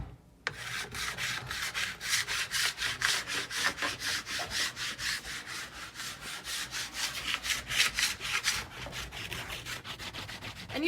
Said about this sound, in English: then you're just gonna scrape along the ski and get the wax off